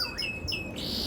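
A small bird chirps close by, a few quick rising tweets in a short burst over faint background noise.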